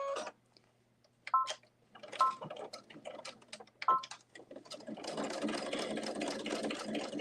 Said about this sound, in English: you're gonna top stitch this